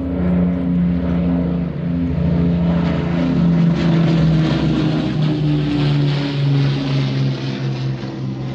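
A propeller aircraft at the Midlands Air Festival 2023 drones loudly overhead, a steady humming engine tone with a rasping, pulsing edge that holds throughout without pause.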